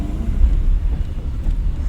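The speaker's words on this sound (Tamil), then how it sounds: "அந்த இன்ஜின் நாய்ஸ் கேட்டுச்சா?" Low, steady rumble of a car engine while driving during a driving lesson, a continuous drone with no talk over it.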